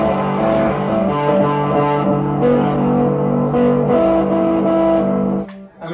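A distorted electric guitar plays sustained, gritty chords through an effects unit, loud and close, ringing out before cutting off near the end; no talking.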